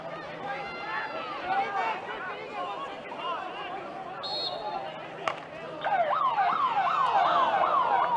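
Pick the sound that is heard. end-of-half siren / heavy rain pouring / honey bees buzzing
end-of-half siren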